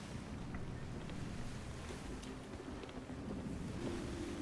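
Wind and ocean waves at sea in the Sea of Thieves video game, a steady low rushing roar with constant wind buffeting and surf washing beneath, no pause throughout.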